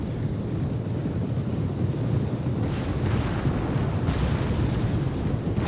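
Explosive rounds pound a dense blob of enemy troops in Rome Total War 2, a steady roaring, rumbling wash of blasts and battle noise with louder bursts swelling near the end, no talk over it.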